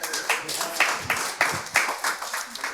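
An audience at a live fintech developer conference breaks into brief applause after sponsors are thanked, with scattered claps of varying strength over a few seconds.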